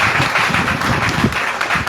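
Congregation at a Baptist church service applauding, a dense, steady wash of hand claps filling the whole stretch at close range, with no clear pauses.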